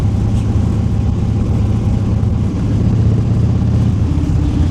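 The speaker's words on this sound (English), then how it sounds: "Motorcycles." A motorcycle engine drones loudly and steadily on a mountain road between Gilmer County and Murray County near Chatsworth, Georgia, with a continuous low rumble and slight swells in throttle throughout.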